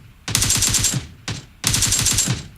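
Automatic gunfire in PUBG Mobile, two loud sustained bursts of rapid shots, with a short separate burst between them and a few brief gaps.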